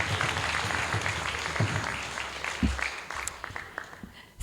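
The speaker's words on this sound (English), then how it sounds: "A huge round of applause to Mataji." Audience applause at a college graduation ceremony, a steady wash of clapping from a gathered crowd that thins toward the end, with a few voices mixed in.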